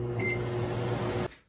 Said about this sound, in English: And then a minute and a half in the microwave.